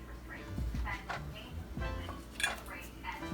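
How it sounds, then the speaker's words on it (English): A metal skillet clanks and scrapes against a stovetop while cooking shrimp and grits with bacon, a few faint knocks and clinks close by, mixed with quiet talk. "I'm going to take this skillet here"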